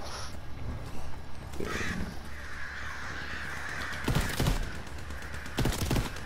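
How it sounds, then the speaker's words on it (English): A burst-fire gun in Call of Duty Zombies: two short, sharp clusters of shots cracking out near the end over a busy, rumbling game backdrop. "Oh, it's burst fire."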